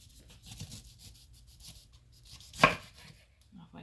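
A kitchen knife cuts through the bottom of a pineapple with a single sharp, close chop against the board, preceded by faint scraping and quiet handling.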